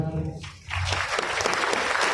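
Students in an on-site Python class break into applause for themselves, clapping rising quickly after a short stretch of speech and continuing steadily, close and reverberant in the room.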